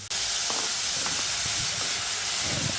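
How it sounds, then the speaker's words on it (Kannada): Tomato and onion fry in oil while being stirred, a dense, loud hiss throughout with a few soft stirring knocks across the short stretch and no voices. "ಟೊಮೆಟೊನು ಎಣ್ಣೆಲಿ ಬಾಡಿಸ್ಕೊಳ್ತಾ ಇದ್ದೀನಿ, ಜೊತೆಗೆ ಹುರ್ಕೊಳ್ತಾ ಇದ್ದೀನಿ"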